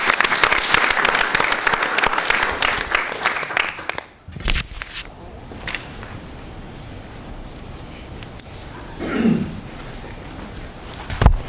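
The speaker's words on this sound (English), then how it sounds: "let's give them a round of applause" School board meeting audience applauds the Palmer Bus staff, a fairly loud burst of clapping that fades out after about four seconds, followed by quieter room noise, shuffling and a few soft bumps.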